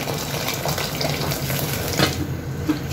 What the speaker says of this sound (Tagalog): Kaya, ayan, mainit na tubig na aking gamit.